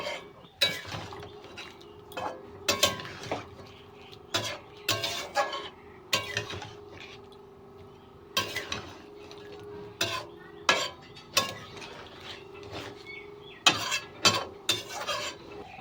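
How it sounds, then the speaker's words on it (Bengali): Yogurt being mixed into a pan of paneer with a spoon, repeated sharp scrapes and clinks of metal on the pan in an uneven rhythm over a faint low sizzle, close by, no speech. "টক দইটাকে দিয়ে ভালো করে মিশিয়ে নিতে হবে"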